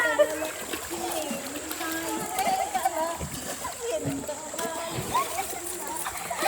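Water splashing in a temple pond at the Sikindlapur Swayambhu Lakshmi Narasimha Swamy Temple, as family members play in the water; steady close splashes and sloshing continue throughout, with children's voices and chatter mixed in.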